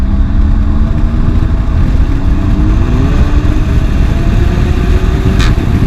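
A remapped Audi S3 engine with a DSG gearbox drones loudly and steadily close by, its pitch rising slowly as it accelerates, with a continuous throaty rumble throughout.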